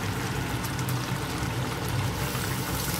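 Water poured into a cooking pot of vegetables and fish, a steady continuous splashing rush that stays loud and even throughout, with no talking.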